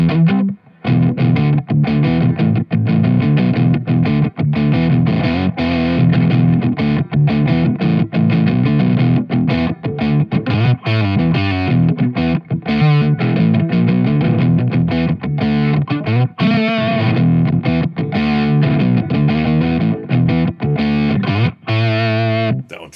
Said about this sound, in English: Let's do just a quick, like a riff with distortion with each one of them.